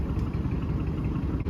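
A 2020 Audi SQ7 idles in comfort mode, its exhaust a steady, low and muted rumble held close and even for a moment with no talk.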